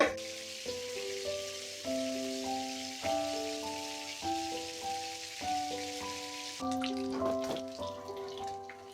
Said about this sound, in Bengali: এখন আমরা মাছগুলোকে ভালোভাবে ভেজে নেব।